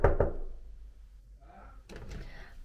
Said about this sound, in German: Wir klopfen mal an.